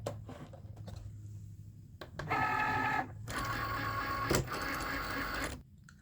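A Cricut cutting machine works an acetate sheet on a standard grip mat, giving soft, quiet whirring and buzzing motor runs in a few short bursts with brief gaps between, and no speech.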